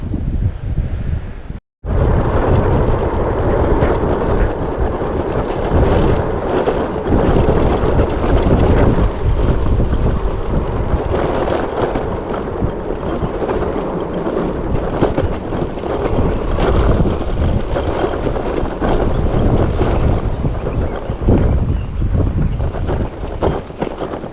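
Strong wind roars and buffets the microphone without letup on the Kapıdağ Peninsula coast in Turkey, a dense rushing noise that swamps everything else from start to finish.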